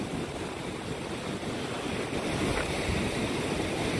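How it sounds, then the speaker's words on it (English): Strong wind buffets a microphone on Palm Beach as Hurricane Dorian approaches, a loud, steady roar mixed with surf, with no speech. "Here comes some wind now."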